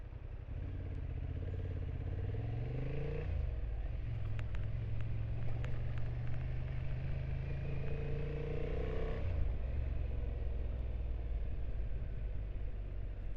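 Honda Hornet 750 motorcycle being ridden on the road, a continuous engine drone with rising revs, a brief dip as gears change and steady wind rush, heard up close from the rider's position with no talking.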